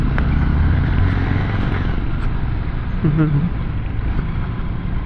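A Honda TMX motorcycle engine drones steadily at close range on a bumpy road, a continuous low rumble with a short tonal rise partway through.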